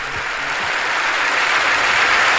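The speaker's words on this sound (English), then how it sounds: "that clapping in sync that like studio audiences or crowds do" A large studio crowd applauds, a dense, steady wash of clapping that holds loud and even and swells slightly toward the end.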